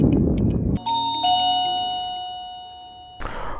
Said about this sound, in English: this is the wireless doorbell from Tronic